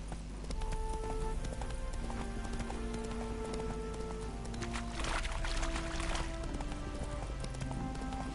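Roach the horse trots in The Witcher 3, a steady rhythmic clip-clop of hooves over a low ambient game backdrop, with a brief brighter rustle partway through and a faint voice now and then.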